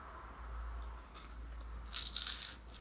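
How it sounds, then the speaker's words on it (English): Close crunching bites into orange-flavoured Mavericks corn puff snacks, a dry crackly crunch that grows louder toward the end, with no talking. "When you put it in your mouth and you bite it, it just kind of disintegrates into this tangy foam"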